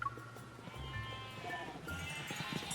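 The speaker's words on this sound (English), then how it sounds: "the eager flock of sheep has surrounded me" Sheep bleating in the video game Love and Deepspace as a flock crowds around, several overlapping wavering bleats at close range against a busy game background.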